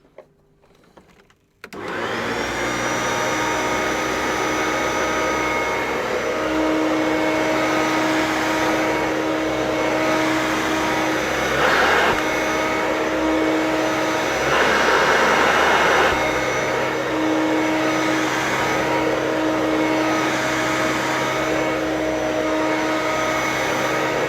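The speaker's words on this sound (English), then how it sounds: "and let's vacuum it up" After a short quiet moment, a refurbished Hoover Turbopower Freedom U2262 vacuum cleaner switches on and runs with a loud, steady whine and roar, its pitch surging briefly a couple of times.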